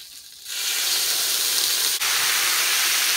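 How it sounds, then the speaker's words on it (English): After a quiet start, a loud, steady sizzling hiss erupts and continues as boiling water hits a hot buttered cast iron skillet, with a brief clink partway through. "That's boiling water I'm putting in there"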